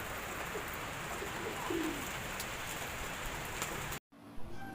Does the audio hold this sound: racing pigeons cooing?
yes